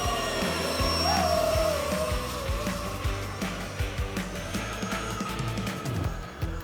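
A DIY A-10 Warthog model plane flying, with a steady high whining jet-like hum that holds throughout and rises briefly in pitch, plus some wind buffeting.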